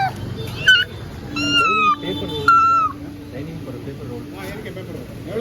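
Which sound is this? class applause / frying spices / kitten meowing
kitten meowing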